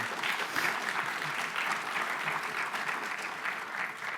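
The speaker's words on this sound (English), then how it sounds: "Please give him a round of applause again." Sustained applause from an audience at a university launch event, honoring the minister; dense, steady clapping that holds at an even, moderate level throughout without any talk over it.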